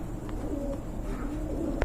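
A pigeon coos in low, rolling phrases nearby, the throaty burbling steady and unbroken, with no voices over it.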